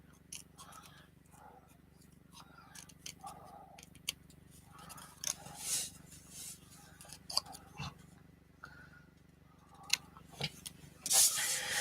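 Scissors snip repeatedly in short, crisp cuts, close up and uneven in rhythm, with soft rustling between strokes.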